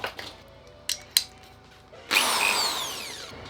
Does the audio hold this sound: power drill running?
yes